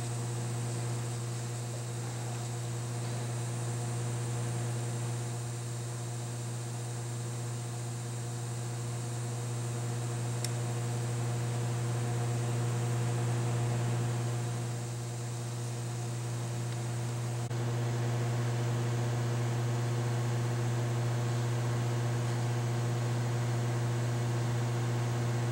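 Tousimis Autosamdri 814B critical point dryer running its heat process gives a steady, loud electrical hum with a constant fan-like hiss, unchanging for the whole stretch apart from a slight shift in tone partway, with no voices.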